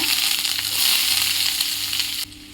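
Large onions and pepper fry in sesame oil in a wok, a loud, dense, continuous sizzle heard up close that drops off suddenly near the end.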